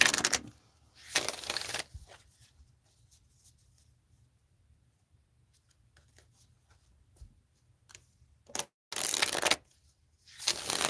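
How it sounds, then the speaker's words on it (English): Tarot-style cards are shuffled and drawn for a card reading, with loud, close bursts of riffling and sliding cards separated by near-silent gaps. "All right, so Paula, a card for Justin"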